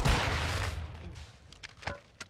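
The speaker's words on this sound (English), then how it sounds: "Throwing flash grenade." A flash grenade thrown in an online squad shooter game: a loud burst of noisy blast fades out over about a second, followed by a few sharp clicks and pops.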